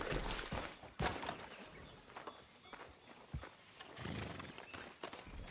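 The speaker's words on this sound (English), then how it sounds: "Careful with that horse, Arthur." A horse in Red Dead Redemption 2 moves with soft, irregular hoof thuds and faint clip-clop amid quiet game ambience, fairly low and close.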